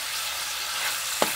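Skinless Pampanga longganisa sausage fries in a pan, a soft continuous sizzle with a single brief clack near the end.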